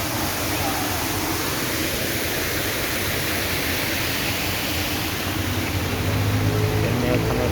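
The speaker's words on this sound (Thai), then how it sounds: "น้ำตกไหลที่นี่ครับ" Water pours down a small waterfall at a garden restaurant in a forest setting, a loud, continuous broadband rush close by with no pauses.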